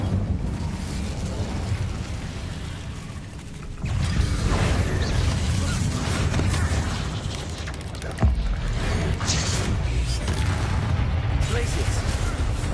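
Incendio fire spell cast in Hogwarts Legacy, a sustained roaring whoosh of flame over a low rumbling game soundscape, surging louder partway through with a sharp burst near the end.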